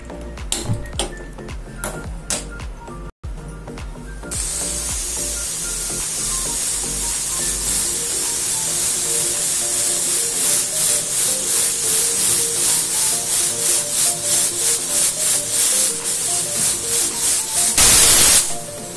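A pressure cooker on a gas stove building to a loud, continuous steam hiss that pulses rhythmically before bursting into a sharp whistle near the end, after some clinking at the start.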